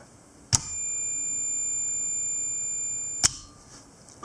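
Two sharp, clear electronic beeps from a multimeter's continuity setting while testing the switch contacts of an HVAC air conditioner contactor, spaced about three seconds apart with quiet hum between them.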